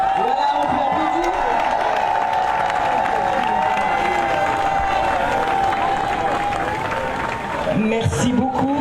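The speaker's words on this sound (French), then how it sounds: "Voilà, on peut applaudir." Loud, sustained applause from a large crowd at a cancer awareness ceremony in the Democratic Republic of the Congo, with a steady wash of clapping and scattered cheers lasting the whole stretch.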